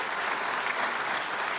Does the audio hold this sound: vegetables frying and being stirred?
no